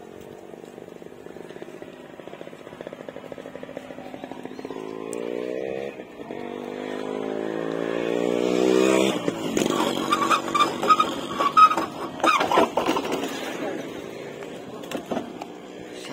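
A used 2024 Suzuki Gixxer monotone single-disc motorcycle with about 10,000 km idles, then revs up in rising pulls before settling into loud, choppy throttle blips, close to the listener with faint talk nearby.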